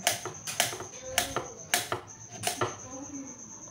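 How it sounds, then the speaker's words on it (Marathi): A knife chops peeled pumpkin into small pieces on a board in sharp, fairly regular close knocks, roughly two per second, with no one speaking. "तर भोपळ्याची साल काढून घेतली, असे तुकडे करून घ्यायचे"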